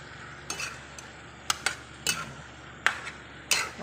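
Pork sautéing in a pan with bay leaf, whole peppercorns and fish sauce, a soft background sizzle broken by about seven sharp clicks of a utensil against the pan, near and fairly quiet, no talking.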